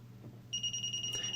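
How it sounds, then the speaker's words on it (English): Hioki DT4282 multimeter signaling an overload with a steady, high electronic beep tone that starts partway through over a low mains hum. "Hioki blinking, beeping."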